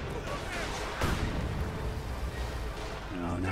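A grenade explodes in a strategy battle game: a sharp blast lands about a second in, set in a dense, steady wash of battle noise, with a voice briefly emerging near the end.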